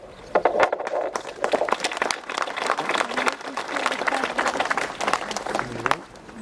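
A crowd cheers and claps at the launch of the boat Fire Fly after a champagne bottle is smashed, a close, busy burst of applause mixed with shouts and voices that carries on for several seconds.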